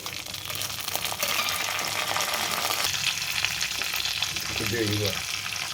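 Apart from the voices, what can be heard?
curry leaves, lentils, mustard seeds and cumin frying in oil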